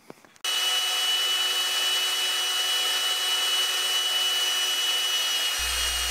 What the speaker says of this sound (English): With the sander we go ahead and make a peanut shape of the body